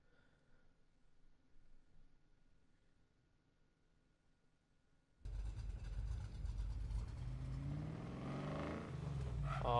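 A 1965 Mustang V8 in Need for Speed Payback fires up after a quiet stretch, then holds a loud, steady, throaty rumble with rising revs through the second half.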